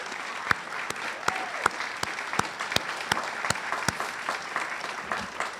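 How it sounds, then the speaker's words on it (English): An audience claps warmly for clinical counselors at a center's ribbon-cutting ceremony, a small crowd's applause with distinct close hand claps over a continuous patter. "so give them a big round of applause"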